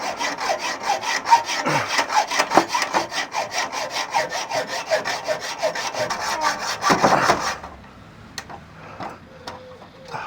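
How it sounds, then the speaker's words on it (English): Hacksaw cutting through a caravan breakaway cable, with a steady rapid back-and-forth rasping of close, loud strokes that stops abruptly near the end, leaving a few faint clicks. "I'm going to just try and hacksaw that off now"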